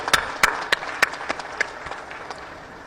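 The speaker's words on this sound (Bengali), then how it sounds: "আমরা তাদের জন্য একটা জোরে হাততালি দিই" Applause from an audience at an afternoon festival ceremony honouring women peacekeepers, heard as scattered, fairly sparse claps with a few sharper loud hits, moderately distant and without talk.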